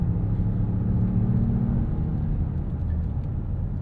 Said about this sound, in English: it's just kind of just normal truck 4-cylinder sounds here